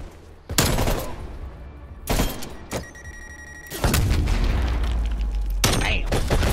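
Bursts of automatic gunfire from Call of Duty: Black Ops Cold War crack out in several loud, sharp volleys separated by short gaps, followed by a sustained rumbling stretch of sound.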